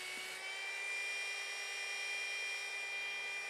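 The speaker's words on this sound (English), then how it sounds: "I hold the blade at an angle and ride it back and forth along the belt sander, slowly grinding down the edge of the blade." A belt sander grinds the edge of a wooden sword blade with a continuous high, steady whine close by. Nobody talks over it.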